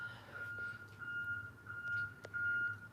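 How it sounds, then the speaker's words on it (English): Faint, steady electronic beeping repeats at a regular pace in the distance, like a truck reversing outside, over a low rumbling background. "Somebody's obviously backing a truck up or something outside, that beeping."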